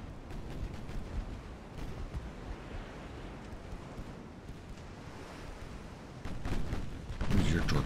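Warship secondary guns firing during a naval battle in Ultimate Admiral: Dreadnoughts, a steady rumbling roar of distant gunfire and sea noise, swelling into louder blasts near the end.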